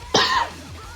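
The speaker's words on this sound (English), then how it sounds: "I'm gonna cough, and it's gonna sound bad." A single loud, rough cough bursts out close by, a harsh throaty hack that trails off over about half a second, with no talk around it.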